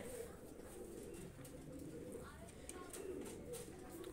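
Pigeons offered for sale coo in low, steady murmurs that carry on throughout, with a faint background voice under the birds.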